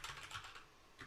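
Rapid keystrokes on a computer keyboard while writing code, a quiet run of clicks with a short pause before a final burst, heard alone with no talking.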